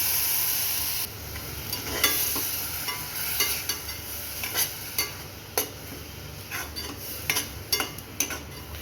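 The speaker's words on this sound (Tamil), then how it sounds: "இதை ஒரு ஒரு நிமிஷம் நல்லா ஃப்ரை பண்ணிக்கலாம்" Onion and ground masala fry in a pan with a low, steady sizzle while a spoon stirs and scrapes, giving repeated sharp clicks and taps at an uneven rhythm, close up.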